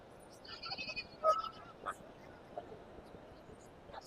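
Goats bleat a few times at a moderate distance amid a faint, busy crowd murmur at a large goat market in Maharashtra.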